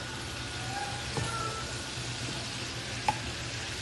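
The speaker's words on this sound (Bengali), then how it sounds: "ভালো করে মশলাটা একটু কষিয়ে নিচ্ছি যাতে করে হলুদের গন্ধটা না থাকে" A spice paste with turmeric and green chilies fries gently in a pan over low to medium heat, giving a soft, even hiss with a couple of faint ticks and no voices.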